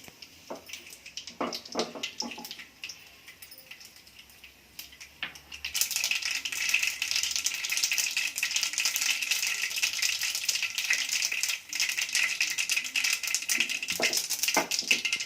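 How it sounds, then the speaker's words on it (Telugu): Mustard seeds spluttering in hot oil in a pan, with soft rattling and clinks at first, then a dense, continuous crackling hiss that stays loud and close to the end. "ఆవాలు చిప్పలాడుతూ ఉంది"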